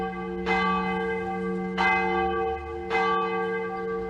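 A large bell, likened to ancient Asian bells, is struck three times at roughly even intervals, each stroke ringing with a rich, sustained hum that lingers between strikes; loud and alone, with no voices.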